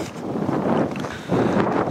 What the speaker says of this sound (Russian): Сейчас еще и очень ветреное.